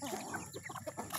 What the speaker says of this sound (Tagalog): Nagahururon pa iba ng manok